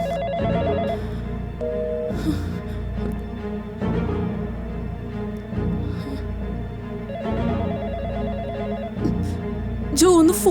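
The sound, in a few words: telephone ringing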